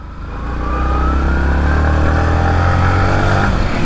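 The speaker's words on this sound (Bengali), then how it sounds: "বাইকের সাউন্ডটা যদি আপনাদের একটু দেখাই টান দিয়া তাইলে আসলে বুঝবেন" A Yamaha MT15 motorcycle in fresh condition revs up close by, its engine climbing from idle to a loud sustained high-rpm roar that holds steady to the end.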